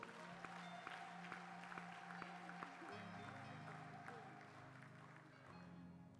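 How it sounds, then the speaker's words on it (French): A church congregation at a Sunday service claps steadily, rhythmic applause over sustained music with a voice speaking in the background. "Applaudissons pour le roi des rois."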